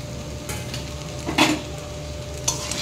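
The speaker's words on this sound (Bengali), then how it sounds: "এখন আমি দিয়ে দেবো আমার ধুয়ে রাখা চিঁড়েগুলো। সব চিঁড়েটা আমি দিয়ে দিলাম।" Washed flattened rice (poha) tipped into a pan for chirer pulao, giving a soft steady sizzle with a few stirring scrapes and brief louder bursts as it lands, no voices.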